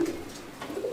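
Madrasi pigeons cooing close by, two soft low coos in quick succession, alone without talk.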